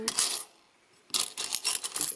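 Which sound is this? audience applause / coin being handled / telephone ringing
coin being handled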